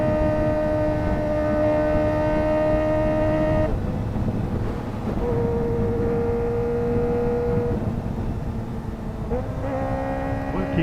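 A Honda beginner sport bike engine held at a steady droning hum while riding, loud and close, its pitch dipping and rising slightly with throttle changes; no talk.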